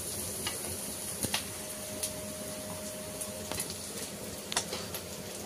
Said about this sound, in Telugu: ఫస్ట్ అయితే కొద్దిగా ఆయిల్ వేసుకొని ఆనియన్స్ అయితే ఇట్లా ఫ్రై చేసుకున్నాడు.